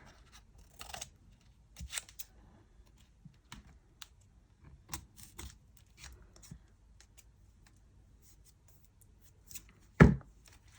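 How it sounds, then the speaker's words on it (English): Scissors trim a paper flap on a mixed-media canvas, giving a few quiet, scattered snips and rustles. A single sharp, louder cut or tap lands near the end. "what I'm going to do is trim off this flap here"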